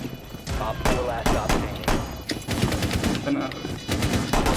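Rapid bursts of automatic gunfire from Rainbow Six Siege crack repeatedly and loudly in quick, irregular volleys, with a voice speaking faintly underneath.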